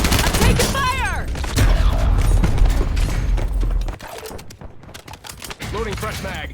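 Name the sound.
gunfire in a video game, Warzone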